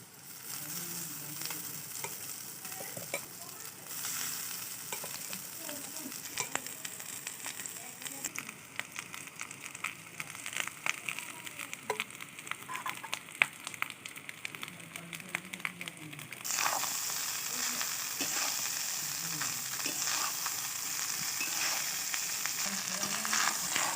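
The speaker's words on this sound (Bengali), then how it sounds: "ভালো করে রাইস আর সবজিগুলোকে নেড়ে নেব।" Fried rice with mixed vegetables is tossed and stirred in a wok over a loud, steady frying sizzle, with repeated scraping strokes that grow brighter and hissier toward the end.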